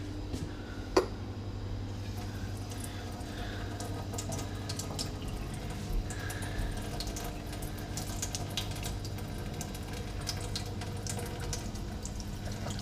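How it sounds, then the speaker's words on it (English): Steady running water pours from a tap into a sink over a part being cooled, a continuous close splashing hiss with faint clinks and one brief knock early on. "Go now to cool the thing under water"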